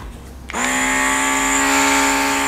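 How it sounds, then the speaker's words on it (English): A rechargeable airbrush from a craft kit switches on after a short quiet pause, then its small motor holds a steady, bright, even whine close to the listener, alone without any voices. "I am so excited to use this airbrush"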